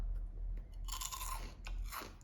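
Crunchy layered crisps being chewed close to the mouth, giving bursts of dry crackling crunches that fade between bites.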